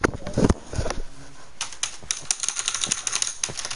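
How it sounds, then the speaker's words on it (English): Close, rapid clicking of a computer keyboard during a Minecraft session, with irregular clattering keystrokes throughout and a brief sound of speech at the start. "Listen to my keyboard ASMR."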